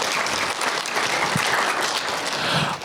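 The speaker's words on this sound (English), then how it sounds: "can we give Asad the round of applause?" Audience applause at a community event honoring a young creator, a dense steady wash of clapping filling the whole stretch without a break, fairly loud and close.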